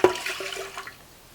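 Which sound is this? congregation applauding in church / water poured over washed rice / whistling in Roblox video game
water poured over washed rice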